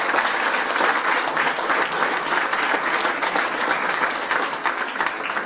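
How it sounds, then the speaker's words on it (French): Audience applause at a food event honoring a team member, sustained and even, loud and close, with many hands clapping and no talking over it. "je voudrais qu'on l'applaudisse"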